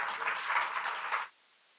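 An audience applauds a panelist walking up at a forum at Newlab in Michigan Central: a dense burst of many hands clapping at moderate distance, then an abrupt cut to near silence.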